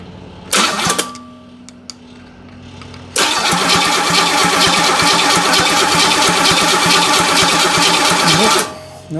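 A 1968 Camaro with a 327 small-block Chevy, not run since 1992, cranks loudly on the starter in a steady churning whir for several seconds without catching, after a brief earlier starter burst.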